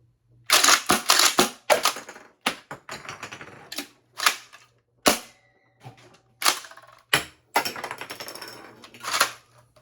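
3D-printed Nerf Breacher shotgun firing shells, a loud close series of sharp snapping shots and clacking pump actions at an uneven rhythm over about ten seconds, with no talk.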